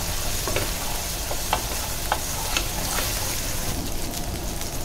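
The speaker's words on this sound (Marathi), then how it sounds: "अर्धा चमचा जिंजर गार्लिक पेस्ट, छान तेलामध्ये परतून घ्या।" Ginger garlic paste sizzles and crackles steadily in hot oil, with a few sharper spits and stirring clicks, close and fairly loud, with no voices.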